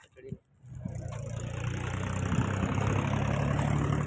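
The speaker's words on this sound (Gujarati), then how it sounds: "ટ્રેક્ટર જાય છે તમને બતાવો" A heavily overloaded tractor from a mine drives past in the evening; its engine rumble swells in after a short quiet moment, then holds loud and steady, a low chugging drone with a broad roar.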